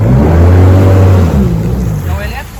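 A jet ski fitted with a Hyundai HB20 car engine accelerates with a deep, loud, close engine roar that holds and then eases off, while someone speaks under it.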